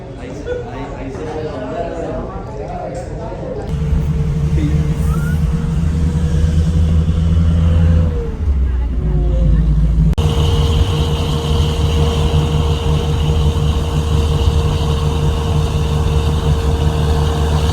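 Inside a taxi driving through San Gil, Colombia, a steady engine and road rumble fills the cabin. A brief change near the start gives way to a constant low drone with a faint tonal whine as the car cruises along.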